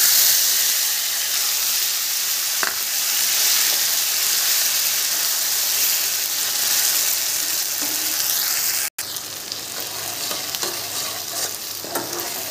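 Spices sizzling and being stirred in hot oil for palak paneer, a loud continuous frying hiss with scraping stir sounds and a brief clatter partway through.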